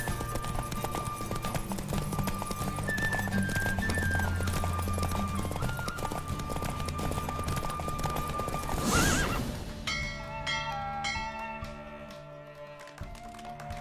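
In a horse race in the video game The Witcher 3, a horse gallops with rapid, steady hoofbeats under a busy game soundtrack, neighing along the way, before a loud burst and an ending of softer sounds.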